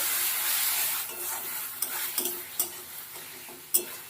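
Spice masala stir-fried in a little oil, with a sizzle that fades as the clip goes on and a series of sharp spoon scrapes and knocks against the pan in the second half.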